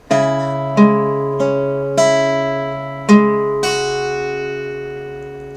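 A slow guitar melody of single plucked notes on open strings, from the One Punch Man sad theme, each ringing out and overlapping, with six or so notes spaced roughly a second apart.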